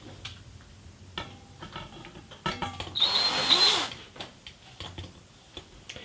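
A power drill whirs in a short burst of a second or so, rising in pitch, amid scattered clicks and handling knocks nearby.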